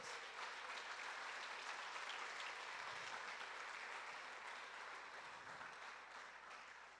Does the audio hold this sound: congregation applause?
yes